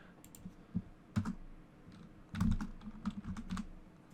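Typing a card name on a computer keyboard, a few scattered key clicks at first, then a quicker burst of keystrokes, close and clear with no talk.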